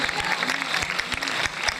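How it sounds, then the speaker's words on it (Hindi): Church congregation applauding during an Urdu and Hindi Bible sermon, a continuous crowd clapping with some voices mixed in underneath, fairly loud and close throughout the short stretch. "जोरदार तालियां खुदा उनके कलाम के लिए बजाएंगे।"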